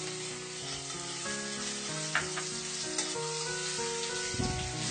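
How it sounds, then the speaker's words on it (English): Mixed vegetables such as mushrooms, capsicum and beans fry in oil in a pan with an even, steady sizzle. A low background hum runs underneath, and a few scraping stirs come through. "Now add all the vegetables and then fry it well"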